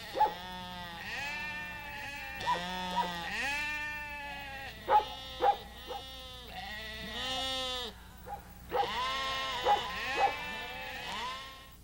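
Sheep being driven down from high pastures for summer shearing by working collies, with repeated bleats rising and falling at close range, several animals calling over one another in uneven bursts.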